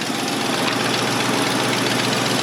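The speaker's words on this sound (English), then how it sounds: "but you can hear the engine" A 1997 Land Rover Discovery engine idling up close, a constant loud rumble with a slight rhythmic knock and no voices.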